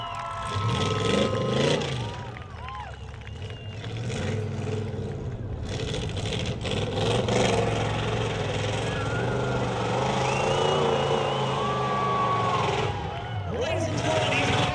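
A 4x4 truck engine drones and revs on an off-road race track, a continuous rumble with rising pitch sweeps beneath a loud announcer's voice and crowd noise.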